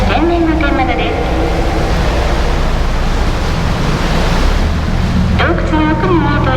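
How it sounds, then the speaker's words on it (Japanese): Waves surge and wash through a sea cave at Dogashima on a boat tour, a steady loud roaring rush of water echoing throughout, with a voice speaking briefly at the start and end. "洞窟の中を通って波が打ち寄せ、浜を形作っております。"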